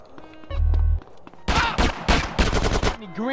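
Gunfire in the video game GTA San Andreas: a low buzzing burst, then a rapid string of loud sharp shots in quick succession, close and punchy.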